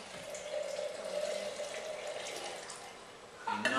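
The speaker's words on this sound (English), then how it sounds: "So as this pours into the flask" Liquid pours steadily into a glass flask during a school science demonstration of a pH colour-change indicator, making a soft continuous trickling and gurgling that ends in a brief clink near the finish.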